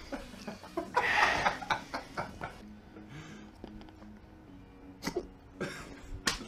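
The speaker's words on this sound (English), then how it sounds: "I got hiccups." Hiccups from a man after eating very spicy chocolate come as several short, abrupt throaty bursts spread irregularly over the clip, mixed with coughing and a throat-clearing sound.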